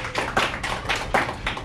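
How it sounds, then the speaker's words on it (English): A small crowd claps in short uneven bursts for a diner taking on a 14-16 lb spaghetti, meatball and garlic bread eating challenge at Dimaggio's. The applause sounds close and lively, with no talking. "let's give him a round of applause,"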